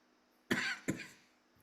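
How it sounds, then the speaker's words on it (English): Two sharp coughs close together, a short pause between them, up close and fairly loud in an otherwise quiet room. "I got the coughs tonight."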